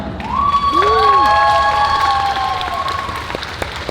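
Audience at a Comic Con Q&A in Antwerp applauds and cheers, crowd clapping with whistles and whoops rising over it, fairly loud and sustained through the clip.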